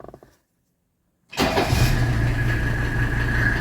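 A 1984 Mercedes 300SD diesel engine cranks and catches after a moment of near silence, then settles into a loud, steady clatter close by with no voices.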